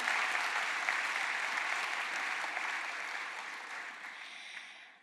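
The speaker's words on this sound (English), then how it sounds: "please, round of applause for that" A sustained round of applause from an audience at an evening charity event for New York City restaurants, steady and full at first, then gradually thinning and fading out toward the end.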